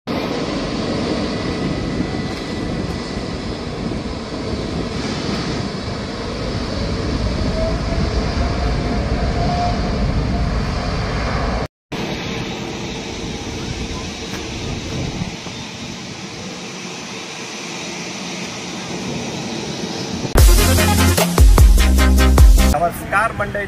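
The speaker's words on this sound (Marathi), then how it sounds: "विस्तारा आता टेकऑफ साठी उभा इथे." A Vistara airliner idles on the runway at Mumbai's airport near Kurla, its jet engines rumbling and whining loudly and steadily, with a brief dropout midway and a sharper, louder burst near the end.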